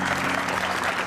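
A group at a community health session bursts into a short, steady round of applause, dense clapping throughout with no talk over it.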